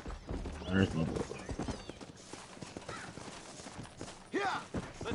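Horse hooves clip-clop in the Western video game Red Dead Redemption, a few uneven near hoofbeats with a whinny, under a player's casual talk.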